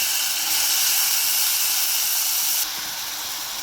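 Finely chopped French beans and two carrots hit hot tempering in a pan for a Gujarati vegetable dish, producing a steady, close hissing sizzle that drops a little in level near the end.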